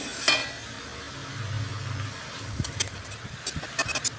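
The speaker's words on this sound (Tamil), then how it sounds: "நல்லா வதக்கி விட்டுக்கணும்." Spinach being stir-fried in a pan for a poriyal, with a soft continuous sizzle and a few scraping stirs of a spatula near the end, no talking.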